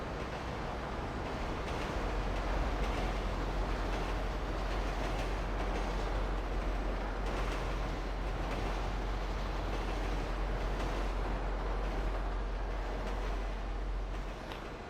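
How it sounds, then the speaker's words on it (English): A train rumbles steadily through a tunnel in GTA5, a loud, continuous low roar with a dense rushing wash that holds evenly for the whole stretch without any voices. "let the train pass."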